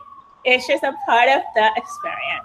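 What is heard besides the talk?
sirens outside in New York City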